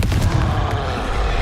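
Fiery Confringo spell blast in Hogwarts Legacy, a loud booming burst with a rumbling low-end tail that fills the short moment without any voices.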